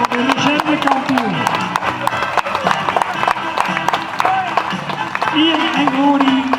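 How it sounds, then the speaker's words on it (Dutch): Applause for the champion at a livestock breeding show on an outdoor heath, with clapping and crowd noise running throughout under an amplified announcer's voice. "Applaus."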